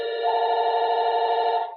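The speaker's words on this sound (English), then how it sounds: "My phone just rang." A phone rings with a single sustained electronic tone, loud and clear, lasting under two seconds before fading out.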